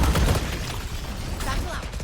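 A grenade goes off in a competitive first-person shooter match, a heavy boom at the start followed by a rumbling tail and scattered gunfire, with players calling out over the action.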